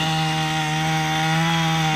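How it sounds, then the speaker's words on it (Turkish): A chainsaw cutting felled branches into firewood in a garden, a steady continuous engine drone that stays even and moderately close throughout. "Dalları indirmişler de odun yapıyorlar da sesi oradan geliyor."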